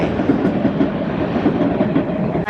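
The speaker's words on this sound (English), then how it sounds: "So this train station is Gare d'Austerlitz, so that's Austerlitz train station." A train at Gare d'Austerlitz station in Paris rumbles steadily nearby, with a faint rhythmic clickety-clack of wheels over rail joints.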